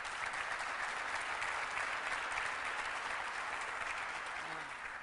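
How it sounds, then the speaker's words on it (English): An audience applauds Mayor Malik Evans at a downtown Rochester revitalization announcement, a steady, dense wash of clapping that holds at full strength for the whole stretch without pause. "So let's give a round of applause to Mayor Malik Evans."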